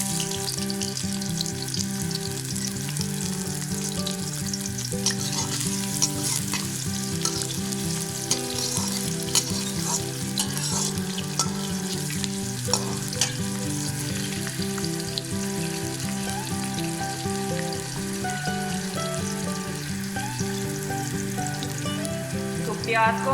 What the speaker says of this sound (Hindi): तो ऑयल गर्म हो चुका है और अब मैं प्याज शामिल करूंगी।